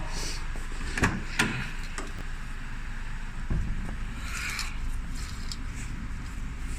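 Driver's door of a Honda Civic Type-R being opened and shut during servicing, heard as two sharp clunks close together near the start and another thud midway, all close by over steady workshop background noise.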